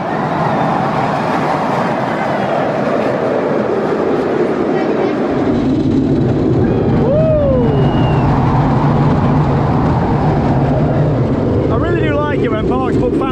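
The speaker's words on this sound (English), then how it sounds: "The wheels make such a noise on the track on this, don't they?" SOS Numerobis roller coaster at Parc Astérix, its wheels rumbling loudly and continuously along the track as the train runs, with screams and voices over the ride noise.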